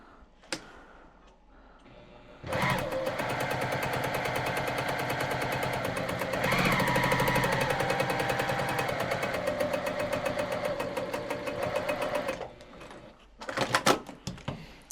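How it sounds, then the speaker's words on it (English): A quarter-inch seam sewn on a sewing machine: steady, rapid mechanical chattering of stitches running for about ten seconds at close range, bracketed by a few clicks and brief bursts before and after. "we're just going to sew another 1/4 inch line"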